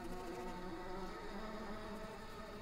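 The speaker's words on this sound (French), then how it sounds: "Ah tiens, donc il y a une mouche." A fly drones steadily inside the video game Samorost 3, a continuous close buzz with a rich, wavering hum and no pauses.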